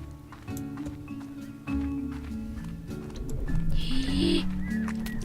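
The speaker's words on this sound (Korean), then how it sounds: "닭이구나." Chickens cluck in the video game Slime Rancher, a string of short clucks and squawks over a melodic game music bed that grows busier toward the end, with no talking.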